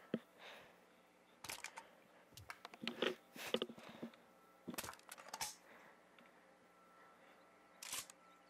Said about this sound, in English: just me reloading